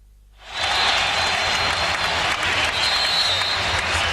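Basketball fans cheer and applaud in an arena during a 2001 Eastern Conference Finals game between the Bucks and the 76ers; the roar swells in after a quiet half second and holds loud and steady.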